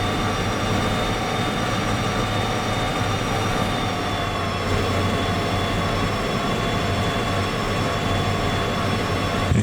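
Train locomotive in the game Derail Valley running at near full throttle, a loud constant mechanical drone with steady whining tones and rumbling wheels, unbroken from start to finish with no talk.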